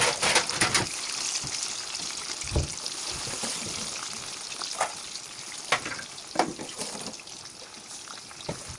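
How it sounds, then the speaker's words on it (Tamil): Chicken lollipops deep fry in hot oil with a steady, close hiss of bubbling and scattered sharp crackles and pops, continuing evenly for several seconds without talk. "இப்போ ஆயிலுக்கு போட்டு நல்ல ப்ரௌன் கலருக்கு நல்லா பொரிச்சு எடுத்துக்கொள்வோம்."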